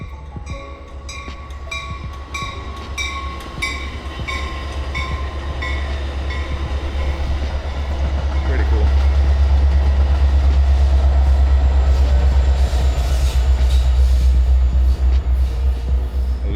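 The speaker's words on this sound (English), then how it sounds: "And then occasionally you get to see the metro trains." A metro train rumbles past steadily with a deep low-frequency roar and rhythmic clickety-clack of wheels over rail joints, growing louder toward the end.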